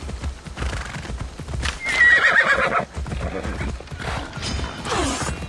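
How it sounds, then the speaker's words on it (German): A horse in the video game Assassin's Creed Odyssey trots with clip-clopping hooves and lets out a sharp whinny, close and loud, with game effects mixed in. "steigt auf dein Pferd auf."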